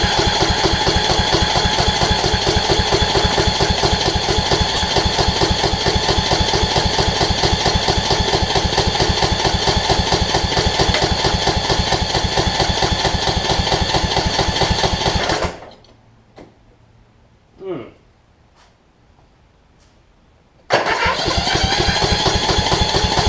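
A Kohler Courage engine on a Toro Z5000 zero-turn mower with tight intake valves cranks and runs steadily with a loud, even chugging, cuts out to near silence with a brief sputter, then roars back.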